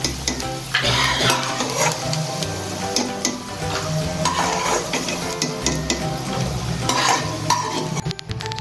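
Peanuts fry in oil in a pan for potato poha, giving a loud, close, continuous crackling sizzle broken by repeated scraping stirs, with no voices.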